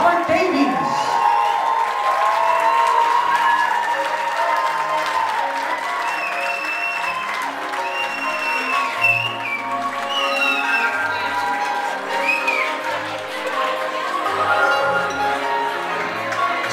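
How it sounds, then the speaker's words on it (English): Wedding reception guests clapping as the bridal party is introduced, a sustained loud round of applause from a crowded room with scattered cheers and a voice over it. "Have a big round of applause for the grandparents of the groom, Mr. Thomas J. Cullen and Miriam Cullen"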